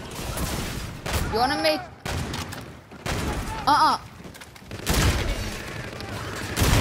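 Sniper rifle shots and other gunfire in Call of Duty: Infinite Warfare crack out in sharp bursts with whining, sweeping tones between them, while a voice talks briefly over the clamour.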